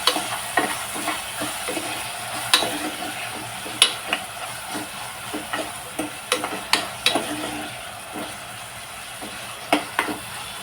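Chopped onion and tomatoes fry together in a pan for a mixed vegetable sabzi, giving a steady soft sizzle broken by repeated sharp scrapes and taps of a spoon stirring against the pan.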